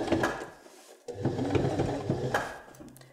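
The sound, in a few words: sewing machine stitching fabric of dog snuffle mat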